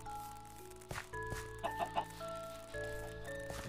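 Chickens clucking in a video game, several short fowl calls over a steady tonal background, heard alone without talk.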